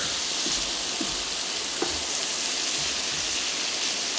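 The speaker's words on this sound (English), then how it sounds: "And we're going to continue to just stir." Shrimp with paprika in olive oil and butter sizzle in a pan while being stirred, a steady close frying hiss with a few soft scrape ticks and no talking.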